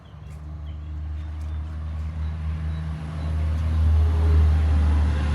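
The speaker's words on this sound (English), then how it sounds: "now we've got a truck going by." A truck drives by outside, its low engine rumble building steadily and growing louder toward the end, with no talking over it.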